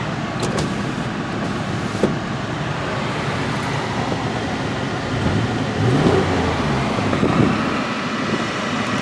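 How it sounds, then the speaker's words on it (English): A 2003 Honda Accord with about 165,000 miles idles roughly with one dead cylinder, a steady broadband engine rumble with a slight uneven throb throughout, close and fairly loud, no talking. "a misfire from that one cylinder that's not doing anything"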